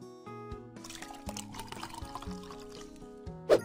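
Cartoonish liquid pour of milkshake into a glass in a cooking video game, a short bubbly trickle over soft background game music, ending in a brief bright chime.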